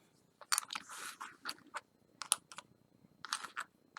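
A craft stick is cut into a piece for a tree trunk, giving a run of close, crisp crunching snips and cracks in uneven bursts against a quiet background.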